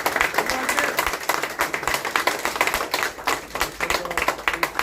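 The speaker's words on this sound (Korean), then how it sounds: "박수!" An audience claps at a presidential campaign press conference in the Yeongdeungpo campaign office, a dense, fairly close patter of hand claps that runs steadily with little talk.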